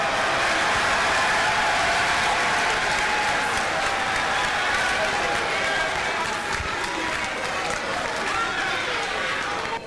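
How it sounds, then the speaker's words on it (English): Rapturous applause fills Ghana's parliament as members from all sides of the political divide clap after a speech, a dense, steady wall of clapping with cheering voices that holds throughout. "rise up with such rapturous applause from all sides of the political divide"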